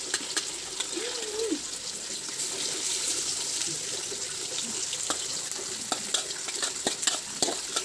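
Marinated chicken pieces fry in a wok, giving a continuous close sizzle. Scattered clicks and scrapes from stirring sharpen toward the end, with no voices.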